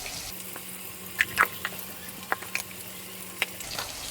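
Onion, sliced garlic and a little turmeric frying in a pan for a cauliflower dish, with a low steady sizzle and a few sharp clinks of a stirring spoon, close and fairly quiet.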